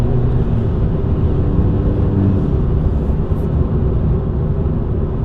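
Straight-piped 1.2 TSI car engine drones with a steady, loud low-frequency exhaust rumble, held throughout without any clear rise or fall, and no voices.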